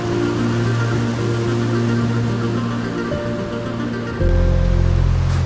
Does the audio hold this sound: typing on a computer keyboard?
no